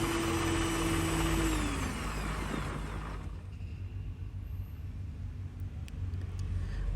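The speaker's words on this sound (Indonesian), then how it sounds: "Untuk stand mixer ini lebih nyaring, ini yang terbaru." A new Miyako SM-625 stand mixer runs with a steady, loud electric motor whir, its tone shifting and easing slightly partway through, with no talking.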